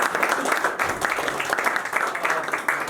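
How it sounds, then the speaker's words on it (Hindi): Audience applause after a Hindi stage play, a steady wash of clapping that holds at moderate level throughout, with a murmur of voices mixed in. "अगर पसंद आई है तो एक बार ताली तो बजा दें"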